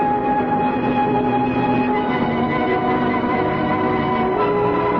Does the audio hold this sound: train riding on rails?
yes